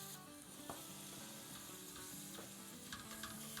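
Minced meat sizzles steadily in a pan over medium heat, a dense, continuous frying crackle with a few brief stirring scrapes, close and alone.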